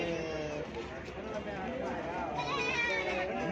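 Goats bleat among a crowd at a livestock market in Gudur, their cries overlapping with constant chatter and busy market noise.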